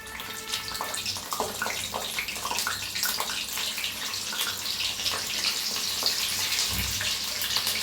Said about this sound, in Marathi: आता मिरची तळून दाखवते.